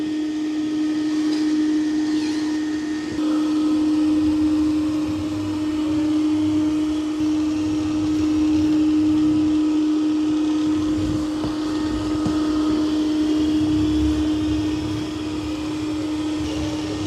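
A Dreame X50 Ultra robot vacuum and mop cleans a floor, giving off a steady, loud motor whine with a constant tone and soft rumbling shifts as it moves.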